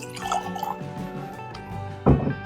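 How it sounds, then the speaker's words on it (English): Kosher rye bourbon whiskey pours into a glass with trickling, gurgling liquid sounds and a louder splash near the end, close and fairly quiet. "That was a hefty pour."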